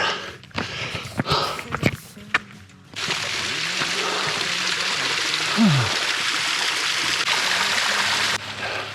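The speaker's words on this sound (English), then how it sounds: "I found a little tiny waterfall, a little bit of water." A tiny mountain waterfall on a trail near San Jacinto peak, with some ice still around, gives a steady splashing trickle close by, preceded by a few seconds of scuffing and footsteps.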